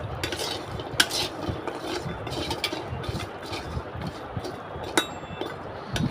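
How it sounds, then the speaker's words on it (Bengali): Jackfruit seeds fry in a pan with a steady, dense crackling hiss, stirred with a utensil that gives occasional sharp metallic clinks, close and continuous. "প্রথমে কাঁঠালের বিচিগুলো ভালোভাবে ভেজে নিব।"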